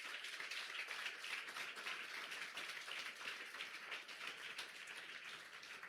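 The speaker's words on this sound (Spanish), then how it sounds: "Dale fuerte el aplauso al Señor." Congregation applauding during a Sunday school service in a church, a faint, distant patter of many hands clapping steadily for the whole stretch with no talk over it.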